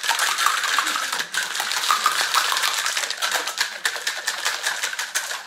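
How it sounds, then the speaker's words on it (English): Ice rattling hard inside a cocktail shaker during a vigorous shake, a dense stream of bright clattering hits with rhythmic pulses, loud and close, with no voices. "The ice in the shaker really just helps it mix up. I'm gonna give it a good shake."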